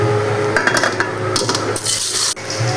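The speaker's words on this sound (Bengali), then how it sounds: "কেটে রাখা পনিরটা আমি এখন পুরোটাই আমি তেলে আর ঘিয়ের মধ্যে দিয়ে দেবো।" Cut paneer dropped into hot oil and ghee in a wok sets off a loud, steady sizzle broken by clinks and scrapes of a metal spatula against the pan.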